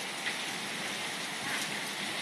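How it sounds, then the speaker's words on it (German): Steady rain hisses down during a coastal thunderstorm, a dense, even wash of droplets close by with no thunder standing out and no voices. "Es regnet und blitzt."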